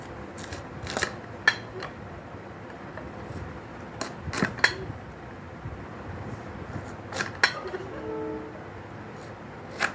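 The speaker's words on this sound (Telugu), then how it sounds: "ఇది మామిడికాయలు కొట్టేటువంటి కత్తిపీట." Raw mangoes chopped into pieces on a kathipeeta, a traditional fixed cutting blade, giving sharp, separate chopping strikes at uneven intervals over a quiet background.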